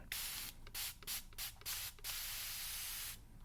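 A spray bottle fires a quick series of about five short hissing bursts, then one long continuous spray that fades out, close and fairly loud.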